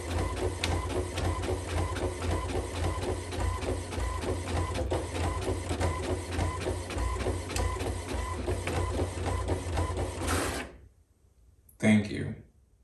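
An inkjet-style home printer chatters and whirs in a steady, rapid mechanical rhythm for about ten seconds, then falls silent before a brief final clunk, close and loud.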